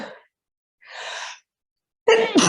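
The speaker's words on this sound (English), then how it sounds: "Sneezing in yoga." During a chair yoga stretching class, a quick breath and a long airy inhale lead into a sudden, loud, close sneeze burst at the end.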